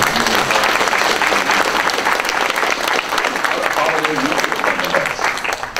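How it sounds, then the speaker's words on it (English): A crowd applauds steadily and loudly, dense clapping sustained throughout with a slight fade near the end. "How about a round of applause for our"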